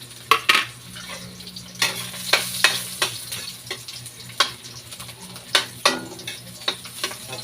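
Garlic and onion frying in oil in a wok, with a steady sizzle beneath repeated sharp clacks of a utensil stirring against the pan, close and fairly loud.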